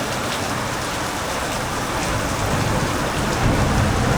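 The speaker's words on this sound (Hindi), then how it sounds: "कितनी बारिश हो रही है" Heavy rain pours steadily, a dense, continuous roar of drops with a low rumble underneath, growing slightly louder toward the end.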